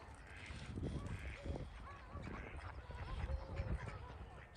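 Ducks and geese honk and quack on a lake at a nature reserve, several calls overlapping at a middle distance, with a voice talking over the birds.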